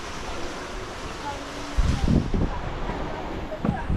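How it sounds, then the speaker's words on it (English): Wind on a sailing boat in the open Atlantic, blowing 15 to 17 knots with sails up, a steady broadband rush with buffeting gusts and surging water that grow louder partway through. "the wind picked up"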